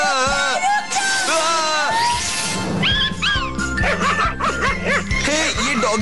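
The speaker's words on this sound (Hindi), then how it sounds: "हे, ये डॉगी तो मेरे पीछे पड़ गया।" A cartoon dog barks and yips in quick, excited bursts over music, while voices talk around it.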